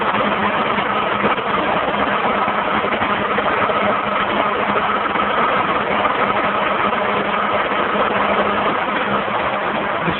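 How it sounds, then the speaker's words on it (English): Inside a car's engine bay, the A/C compressor runs with its clutch staying engaged, a steady, close mechanical hum and whir over the idling engine, unbroken throughout with no voices. "It sounds like the compressor clutch is just staying engaged all the time."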